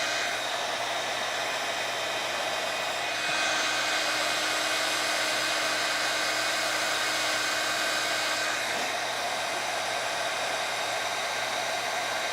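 A heat embossing tool runs continuously at close range while heating embossing powder on cardstock, a steady fan-driven hiss and whir like a hair dryer, shifting slightly in tone partway through.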